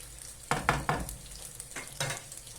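Chicken sizzles quietly in a pan, with a few sharp clatters of stirring against the pan at uneven intervals.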